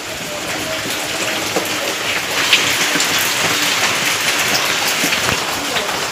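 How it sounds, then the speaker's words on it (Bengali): Steady morning rain falls in a continuous, even patter on surfaces, with no break across the whole stretch. "আমাদের এখানে সকালে বৃষ্টি হয়ে যাচ্ছে"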